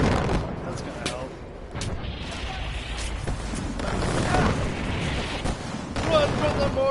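Mortar fire in Far Cry 4 lands in a dense stretch of rumbling blasts and bursts of gunfire. A voice speaks over the din in the game.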